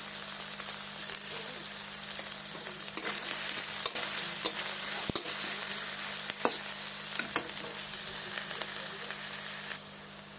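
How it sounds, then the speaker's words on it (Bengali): Chopped onions and panch phoron fry in mustard oil in a pan, a steady close hiss and crackle of sizzling with occasional spatula taps and scrapes, fading slightly at the very end. "পেঁয়াজ কুচি দিয়ে দেবো এবার দেবো পাঁচফোড়ন দিয়ে একটু হালকা লাল লাল করে ভেজে নেব"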